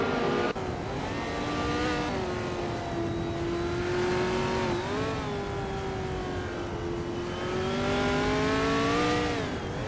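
A 1966 McLaren M10A race car engine at Cadwell Park in a racing video game drones loudly and steadily, its pitch rising and falling through gear changes across the whole stretch, with no talking.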